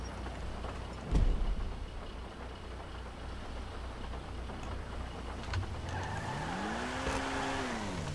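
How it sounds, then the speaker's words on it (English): Racing SUV in GTA5 Online, engine droning steadily with tire squeal and skidding, a heavy thump early on, then the motor revving upward in a rising whine toward the end. "That is a racing SUV."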